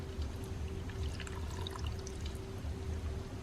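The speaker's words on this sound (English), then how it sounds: "I'm going to pour in some of the pasta water." Starchy pasta water pours steadily into a Dash Mini rice cooker holding pasta, meat sauce and tomato paste, a soft, continuous close-up splash and trickle with a faint hum beneath.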